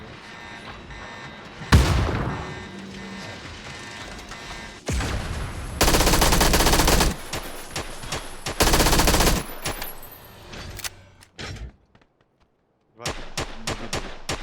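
Bursts of SKS rifle fire in PUBG crack out in clusters, loud and sharp, with pauses between volleys and a rapid string of shots near the end.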